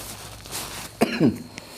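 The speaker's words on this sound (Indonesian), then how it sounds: "istriku bikin sayur jadi batuk-batuk, ini lagi bikin sambal" A person coughs from the fumes of spicy sambal being cooked: a quiet breathy lead-in, then two sharp, close coughs in quick succession and a faint final catch.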